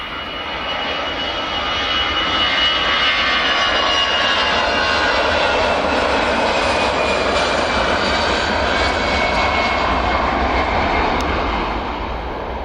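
An EasyJet Airbus A320 jet airliner rolls along runway 24 at Edinburgh Airport, its engines building to a loud, steady roar that holds for several seconds and then eases off slightly.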